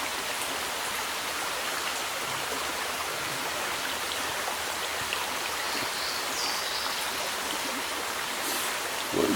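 A small mountain creek near a morning campsite on the first day of August flows in a steady, close rushing wash of water with no pauses.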